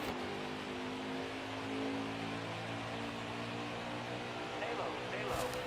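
A field of NASCAR Xfinity Series cars roars at the green-flag race start at Daytona in NASCAR Heat 5, a steady droning engine hum with layered pitch tones under continuous commentary.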